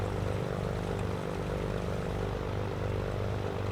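Black Square A36 Bonanza piston engine idling on the ground with the cowl flaps open in MSFS 2024, a steady low propeller drone with a throbbing rhythm, heard close and continuous with no voices.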